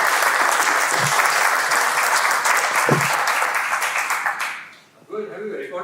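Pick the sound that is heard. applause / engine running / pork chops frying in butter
applause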